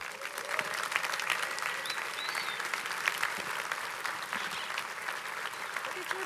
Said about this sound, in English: join me in thanking them and applauding our very first awardee